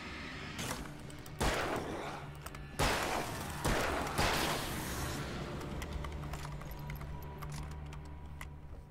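Several loud gunshots and blasts ring out in the Alan Wake video game, irregularly spaced sharp bangs with ringing tails over a low ambient game hum.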